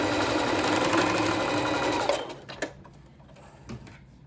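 Sewing machine running a straight stitch across fabric for a sling shot top, steady continuous whir for about two seconds, then stopping into a few faint clicks and handling noises.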